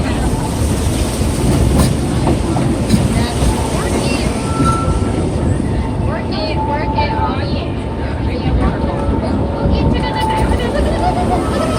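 Disneyland Railroad train rolling along its rails, a steady loud rumble of wheels and carriage noise throughout with faint squeals, while people talk under it.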